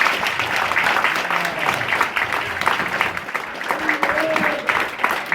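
Crowd applause at a speech event by Master P, a steady wash of clapping and cheering with voices mixed in throughout.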